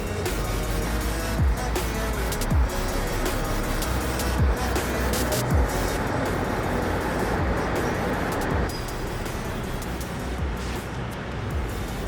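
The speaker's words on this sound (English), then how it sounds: "A lot of traffic here though, and a lot of scooters" Busy street traffic in the port city of Keelung, Taiwan, with many scooters, a continuous loud roar of engines and passing vehicles with recurring low rumbles, no voices.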